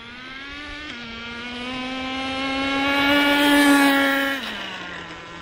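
A 1/10-scale HSP nitro short course RC truck engine drones close and loud as a steady high buzz, its pitch stepping up and holding before dropping off near the end.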